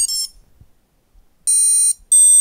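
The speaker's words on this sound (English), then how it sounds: "We got our initialization beeps from the ESC" A drone's ESC sounds its initialization beeps on power-up, a short high electronic tone, then a pause, then two more bright beeps close together, clear and close against silence.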